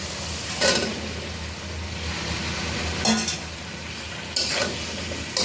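Jackfruit and potatoes go into spices frying in hot oil and get stirred, a steady low sizzle broken by three sharp scraping clatters of a spoon against the pan, close and fairly loud, with no talking.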